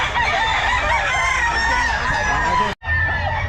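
A gamefowl rooster crows loudly and close by at a busy pet market, its harsh drawn-out call breaking briefly before a short clucking follow-up.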